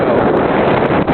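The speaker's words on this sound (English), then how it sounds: "It's very windy, as you can tell." Strong wind during a daytime snowstorm buffets the microphone with a loud, continuous roar and rumble, unbroken for the full moment with no voices.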